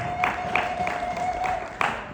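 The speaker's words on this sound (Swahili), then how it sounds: "Mpe Bwana makofi ya shangwe." A crowd claps in scattered, uneven bursts, the applause moderately loud and filling the room, with a faint steady tone beneath.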